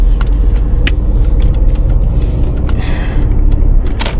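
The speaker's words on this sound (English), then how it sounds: "this is a Mercedes 2008" A 2008 Mercedes E350 cruises at night on lonely roads, its steady low engine and road rumble continuous and close, with brief clicks and ticks from the cabin.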